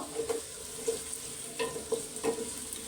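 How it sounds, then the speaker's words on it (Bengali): Onion lightly frying in ghee with cardamom and cinnamon for pulao, a gentle sizzle broken by several small spatula clicks and scrapes in an irregular rhythm, close and moderately quiet, no speech. "এখন আমি সুন্দর করে পেঁয়াজটাকে হালকা ভেজে নিব"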